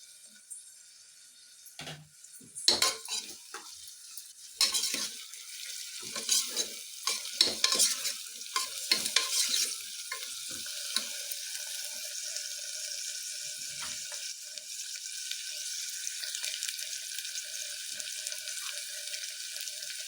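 Onions and capsicum fry in a pan, starting with a few sharp clanks and scrapes of a spoon before settling into a steady, close hissing sizzle with intermittent stirring. There is no talking.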